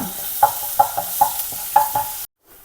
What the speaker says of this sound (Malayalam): ആദ്യം ഇഞ്ചി വെളുത്തുള്ളി അതങ്ങോട്ട് ഇട്ട് കൊടുക്കുക കേട്ടോ ചെറുതായിട്ടൊന്ന് മൂത്ത് വരുമ്പോൾ